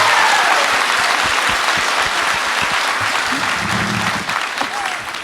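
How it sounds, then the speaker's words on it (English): A crowd breaks into loud, sustained applause with a few cheers, clapping filling the room steadily before easing slightly near the end. "Can we get a round of applause for that?"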